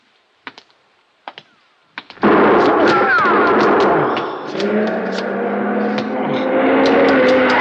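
Gunshots in an old-time radio crime drama: a few sharp isolated cracks, then a loud sustained burst of clattering noise and commotion continuing to the end, fairly close.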